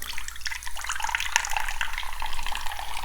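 Running tap water rinses a cleaned old silver coin, with a continuous close splashing and trickling stream and small drips.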